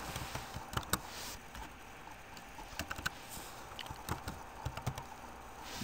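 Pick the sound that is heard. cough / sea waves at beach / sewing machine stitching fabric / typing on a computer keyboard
typing on a computer keyboard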